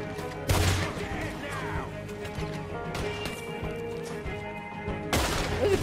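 Gunshots from a firearm in Red Dead Redemption 2, two sharp loud blasts several seconds apart, with a lower rumble and game ambience between them.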